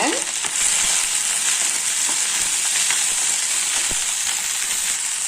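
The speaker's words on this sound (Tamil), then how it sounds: "ஏன்னா நம்ம ஃபஸ்ட்டு வெண்டைக்காவை இதில் இந்த எண்ணெயிலேயே வதக்கிக்கலாம்" Okra (lady finger) sautés in oil with salt, producing a loud, continuous close-up sizzle flecked with small crackles and pops, and no speech.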